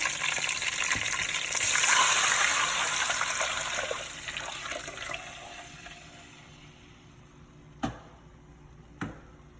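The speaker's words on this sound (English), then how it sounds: "the next thing I'm going to do is add my 6 cups of water" Six cups of water pour into a cooking pot for Haitian rice and beans, a loud rushing gush that slowly fades over a few seconds, followed by two sharp clicks.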